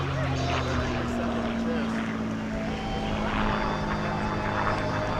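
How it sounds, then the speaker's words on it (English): A P-51D Mustang warbird with a Packard-built Merlin V12 engine flies past at an air show, its steady, loud engine drone filling the whole stretch while a voice talks over it. "Packard built Merlin engines to go in that airplane right there."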